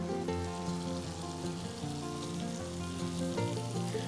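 Onion, garlic and mushrooms sizzle steadily in butter in a pan, a continuous dense frying hiss heard throughout at an even level.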